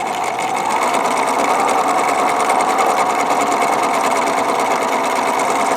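A Husqvarna Viking 950 sewing machine with a vertical bobbin runs steadily. Its motor is quieter and less buzzy than others, giving a loud, even, continuous whir with no pauses.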